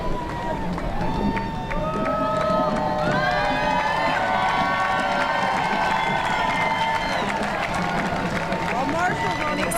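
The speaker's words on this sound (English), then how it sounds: "A standing ovation from the crowd here." A crowd at a military breakfast gives a standing ovation as the 13th Coast Guard District carries the American flag: a dense, steady roar of cheering, whistles and clapping that holds loud and unbroken throughout.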